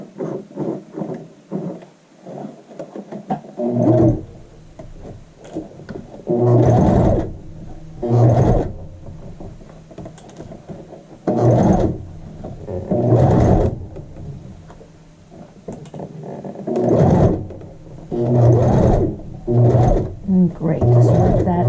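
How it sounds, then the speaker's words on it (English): A sewing machine stitches a child's shirt, including a short back stitch, running in several separate bursts of mechanical whirring with pauses between them, close and fairly loud. "Let's do a little bit of a back stitch."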